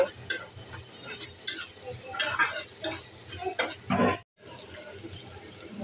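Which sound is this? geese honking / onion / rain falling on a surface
onion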